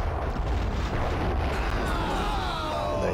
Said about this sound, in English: We round a few of them up, throw the grenades